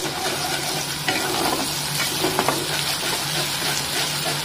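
Onion paste frying and being stirred in a pan for a Bengali-style cauliflower roast, a steady close sizzle with scraping spoon strokes, no talk.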